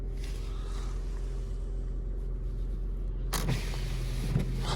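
Car engine idling steadily just after starting on a snowy day, a low constant hum heard from inside the car, with a brief burst of brighter noise near the end.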